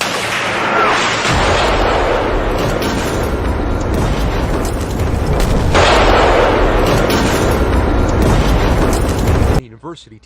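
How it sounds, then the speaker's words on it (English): Russian missile strikes exploding across Ukraine, a loud, continuous rumbling roar of blasts and debris that swells twice and then cuts off abruptly, with voices mixed into the din. "An all-day barrage of Russian missiles striking mostly civilian targets throughout the country"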